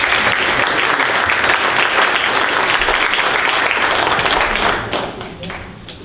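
Audience at a magic show applauding a volunteer coming onstage, loud dense clapping that holds steady then tapers off near the end, with some voices underneath.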